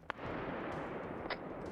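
Gunfire in a military combat video game set in the Congo, a few sharp distant shots, one crack at the start and another shortly after a second, over a steady low rumble of battle ambience.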